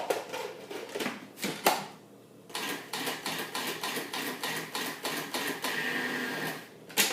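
A food processor pulses pumpkin square ingredients into coarse crumbs, with a series of short, sharp mechanical bursts separated by brief pauses, close and moderately loud, with a quieter gap midway.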